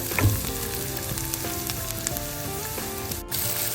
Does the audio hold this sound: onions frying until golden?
yes